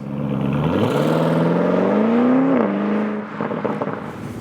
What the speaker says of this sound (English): We put to the sports mode that also activates the special sports exhaust